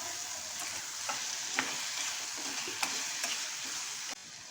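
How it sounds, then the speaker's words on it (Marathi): Marinated prawns in masala sizzling in hot oil in a pan, a steady soft frying hiss with occasional sharp clicks and scrapes of stirring, close and without talk. "आता आपण जे कोळंबी मॅरिनेट केली आहे ती आपण ह्याच्यामध्ये ॲड करायची आहे."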